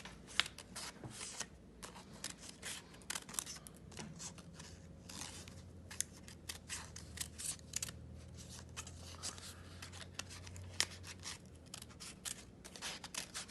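Scissors snip through paper while cutting out a paper letter D for a letter sculpture, a quiet, close run of small irregular clicks and crisp snips with faint handling rustle and no talking.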